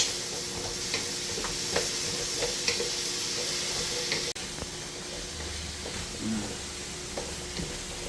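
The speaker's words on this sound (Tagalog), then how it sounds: "pinigisa natin ng konti itong kalabasa bago natin ilagay yung gata." Squash (kalabasa) sautés in a pan before coconut milk is added for crab, a steady close sizzle and hiss with scattered stirring clicks and scrapes, briefly dipping midway before carrying on.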